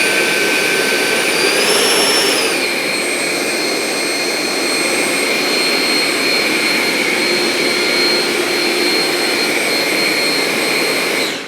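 An E-flite F-16 Falcon 80mm electric ducted fan jet model runs at part throttle, giving a loud steady close whine with a brief rising pitch early on before settling into a constant roar.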